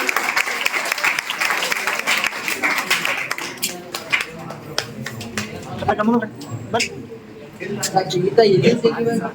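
A crowd at a school farewell ceremony claps in a burst of applause that gradually thins out, and people then talk over the last scattered claps.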